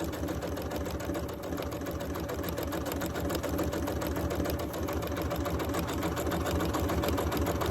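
A sewing machine stitches scrap fabric in a steady, fast, continuous mechanical whir with a rapid regular needle clatter, close and alone, with no talking.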